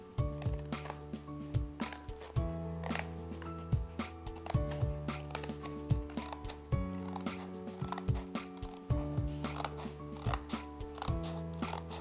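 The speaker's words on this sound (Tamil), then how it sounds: "அங்கேருந்து நம்ம சிசர்ஸ் வச்சு நம்ம கட் பண்ணிக்கலாம்." Paper being snipped with scissors while making a decorated photo frame, with a steady series of short, crisp cuts close by and a soft hum of music underneath.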